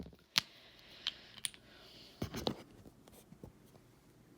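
Pen or marker strokes on a board or paper during a math lesson, a few short scratchy taps and scribbles spaced irregularly, fairly faint in a quiet room with no talking.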